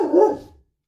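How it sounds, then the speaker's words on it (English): A single short dog bark, close and fairly loud, fading out after about half a second, with nothing else around it. "Oh, that's my dog. Hush."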